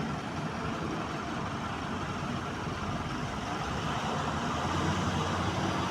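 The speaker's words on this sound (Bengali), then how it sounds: "খুবই কষ্ট করে গাড়িগুলো যাচ্ছে।" Vehicles rumble along the rough, damaged Noapara stretch of the Jessore-Khulna highway, where ten-wheel trucks struggle through. The traffic forms a steady, dense roar at a moderate distance with no distinct passes and no voices.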